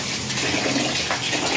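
Water pours steadily into a pot of uncooked rice for a breakfast batch, a continuous close gushing splash lasting under two seconds with no voices.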